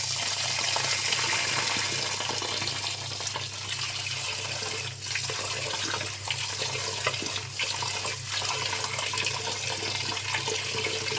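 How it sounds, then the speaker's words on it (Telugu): Urad dal (black gram) being washed by hand in water, a steady broadband wash of running and sloshing water with soft squelching as the grains are squeezed and rubbed, continuous and close with no talking. "కడిగేటప్పుడు బాగా గట్టిగా పిసుకుతా కడుక్కోవాలండి. మురికంతా పోయేటట్టు కడుక్కోవాలి."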